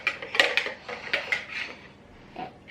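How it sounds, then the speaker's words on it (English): Eggs whisked in a bowl, a quick irregular run of light metallic clinks and scrapes, close and fairly soft, fading over a few seconds. "Give them a little whisk."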